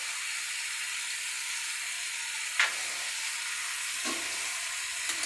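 Turmeric with ginger and green chili paste frying in a pan, a soft continuous sizzle with a couple of brief stirring scrapes.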